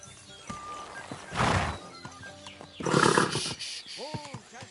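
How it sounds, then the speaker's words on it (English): A horse in Kingdom Come: Deliverance 2 whinnies and snorts in several bursts, with clopping hooves and a final rising neigh, close and fairly loud with no talk over it. "Easy. Good horse."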